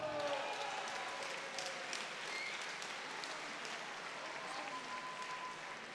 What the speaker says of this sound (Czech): Samozřejmě váš potlesk si zaslouží i Mina Grusander.